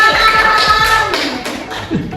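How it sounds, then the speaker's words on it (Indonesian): Schoolchildren in a classroom clap their hands for a classmate called to the front, a short burst of close, loud clapping with voices chattering over it. "Tepuk tangan buat Riri."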